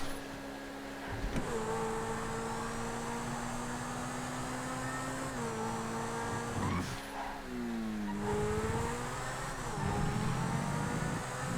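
A Cheetah supercar engine in GTA FiveM, a steady revving drone that rises through gear changes with pitch drops around shifts, continuous and fairly close, with no talking.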